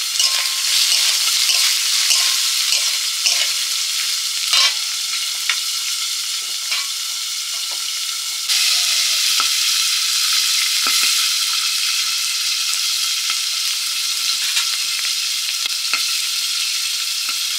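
Potatoes with gime greens fry steadily in a pan, a continuous bright sizzle broken by repeated scraping stirs of a spatula, loud and close throughout with no talk.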